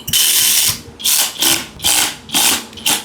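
Two large bolts on a rebuilt small engine being tightened with a ratchet, five or six loud close bursts of rapid clicking separated by short pauses.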